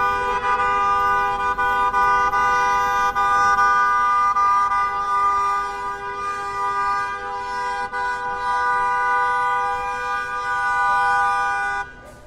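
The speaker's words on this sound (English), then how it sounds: "The bus driver is still honking their horn." A city bus on a Jamaica, Queens street near the Long Island Railroad station honks a long, sustained horn blast lasting most of the clip, loud and steady over traffic noise before cutting off.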